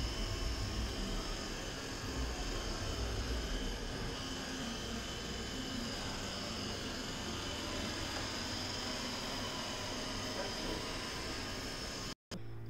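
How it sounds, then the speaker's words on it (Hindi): A Roborock S5 Max robot vacuum mops an indoor floor in a zigzag pattern, giving a steady, continuous whirring hiss at moderate level throughout, with no talk and a brief dropout near the end. "क्या रोबोट अभी पोछा लगा रहा है, आप देख सकते हैं ये ज़िगज़ैग पैटर्न में ही पोछा भी लगाता है।"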